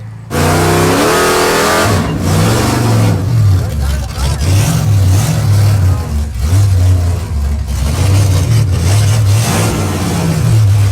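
An old drag race car with a transmission fluid leak revs and accelerates on a run. The engine roars close and loud, with repeated surging swells of revving that stay heavy from start to finish.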